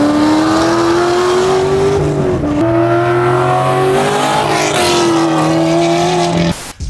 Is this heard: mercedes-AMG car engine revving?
yes